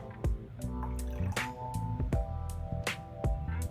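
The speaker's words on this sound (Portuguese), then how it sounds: "e se eu colocar agora, para tirar toda a dúvida, um pouquinho desse líquido numa água?" Small amounts of liquid drip into a glass of alkaline water during a pH test, several distinct drips sounding close and clear over a steady tonal background hum.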